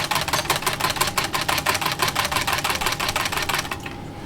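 A whisk beats greengage punch ingredients in a bowl, giving a fast, steady run of bright clicking and rattling strokes close by for about four seconds before it stops.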